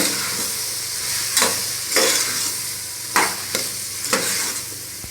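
Salt, turmeric and sambar powder being stirred into bisibelabath in a pot, several distinct scraping strokes of a spoon about a second apart over a soft steady sizzle, close and alone.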